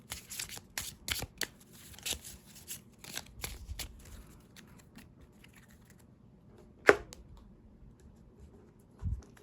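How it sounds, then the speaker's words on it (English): Marvel Champions playing cards being shuffled by hand, a run of quick riffling and shuffling bursts in the first seconds, then softer card handling and a sharp slap near the end, close and fairly quiet with no talking. "So you shuffle this"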